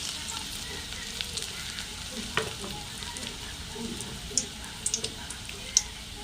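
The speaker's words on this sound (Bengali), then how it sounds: "এবার আমি পকোড়াগুলো ভেজে নেব।" Marinated chicken pakoras deep fry in hot oil, giving a steady, close hiss with scattered sharp pops and ticks throughout, alone and even in level.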